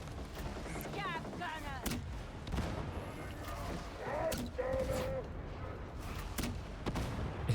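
Gunfire crackles in a Warhammer 40,000: Darktide match as an Ogryn shoots, with scattered, fairly faint shots repeating over several seconds amid other game sounds and voice-like chatter.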